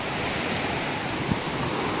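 Water pouring through the gates of the Narmada canal: a steady, dense rushing roar, close and even throughout, with no voices.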